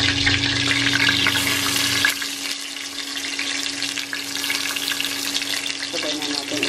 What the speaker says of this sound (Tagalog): Igisa ko lang bawang sibuyas,